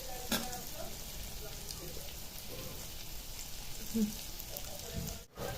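Green chillies fry in hot oil for a quick masala chilli side dish, giving a steady soft sizzle throughout with a few brief clinks and stirring sounds, fairly quiet and close.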